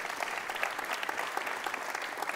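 Audience clapping at an onstage conversation at QPAC in Brisbane, a sustained even patter of many hands, fairly faint and distant, with no voices over it.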